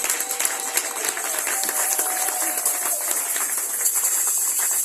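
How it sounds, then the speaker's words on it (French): A church congregation claps in a dense, sustained round of applause that stays loud and steady throughout, with no clear talking over it. "Faites-moi de beaux sourires et acclamez le Seigneur pour cela"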